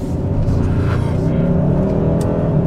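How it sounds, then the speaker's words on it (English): A 2022 Hyundai Sonata N-Line accelerates hard with a steady, loud engine drone heard from inside or close by, its tires grabbing for grip. "this car will legit get up to speed really quickly, and the tires were kind of grabbing for grip"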